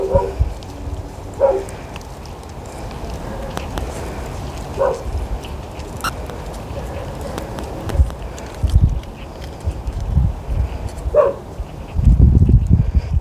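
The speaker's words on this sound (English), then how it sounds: "My dog doesn't like my exclamation." A dog gives a few short, scattered barks and yips outdoors in a fall garden while milkweed seeds are being harvested, with rustling and handling noise close by.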